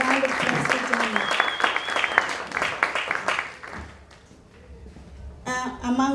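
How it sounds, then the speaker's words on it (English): An audience claps for a speaker at an evening speeches event in Australia, dense sustained applause that thins out, with an announcer's voice over it and resuming at the end. "A round of applause for Janet."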